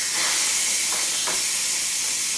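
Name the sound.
quick cooker releasing steam pressure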